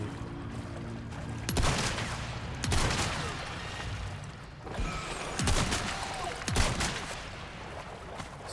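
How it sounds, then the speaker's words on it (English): Rifle or shotgun blasts in the video game Lies of P, several heavy booming shots spaced a second or so apart over a dense, noisy background. "Just have to use rifle."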